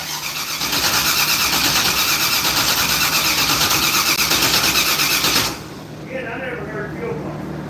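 A gasoline engine cranks and catches, running loud and steady with the throttle held open for about five seconds before cutting back sharply to a quieter idle; a voice speaks briefly nearby.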